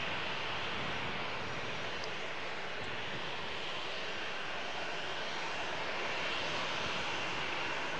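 Jet2 airliner engines roaring on departure at Malaga Airport, a steady, broad, continuous rumble and hiss held at even loudness throughout, with no voices.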